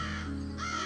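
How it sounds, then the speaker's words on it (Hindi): A crow caws loudly and harshly in a cartoon story sound effect, with nasal calls running through the whole moment and no speech over them. "कौवा उसके पीछे जोर जोर से काव काव करता उड़ा"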